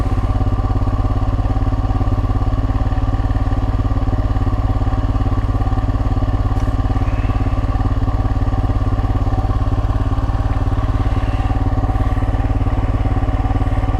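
A 2022 Royal Enfield Himalayan single-cylinder motorcycle, converted to a Hitchcocks carburetor, idles at about 2,000 RPM while warming up, a loud, close, steady thumping chug that holds an even rhythm throughout.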